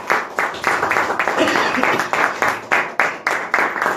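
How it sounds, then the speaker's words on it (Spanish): A church congregation claps in rhythmic, pulsing bursts, fairly loud and close, with voices speaking and calling out over the applause. "Y le damos un aplauso a Jesús"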